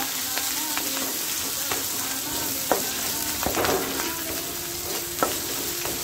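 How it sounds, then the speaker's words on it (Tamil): Small chopped onions fry in a hot pan with a loud, continuous sizzle and crackle, punctuated by several scraping stirs and light taps of a spatula. "பொடி பொடியாக கட் பண்ணி வச்ச சின்ன ஆனியன் இது இது கூட ஆட் பண்ணிக்கோங்க"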